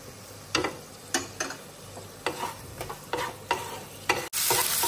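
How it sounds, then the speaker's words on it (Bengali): Whole onions hit hot oil with cumin seeds in a kadai, crackling under a steady sizzle, with a spatula scraping the pan in regular strokes roughly every half second and a brief sharp clatter near the end. "এখন গোটা কাটা পেঁয়াজগুলো দিয়ে দেব"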